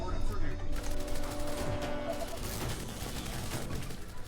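Snipers and defensive towers firing rapid, overlapping cracks against a dense zombie horde in the strategy game They Are Billions, a continuous loud barrage with no pauses.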